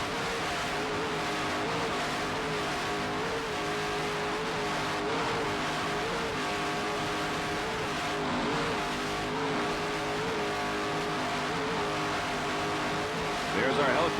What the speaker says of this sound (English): this 40-foot skater, powered by two 900-horsepower Ray-Mach engines